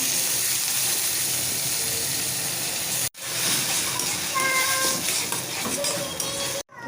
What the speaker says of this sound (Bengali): আমি চালগুলো দিয়ে দিব